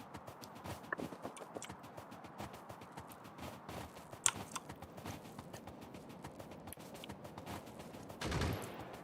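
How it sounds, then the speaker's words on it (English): A Factorio gun turret fires in scattered rapid bursts of sharp cracks, fairly faint and irregular, with a denser clatter near the end. "Stupid gun turret got me again."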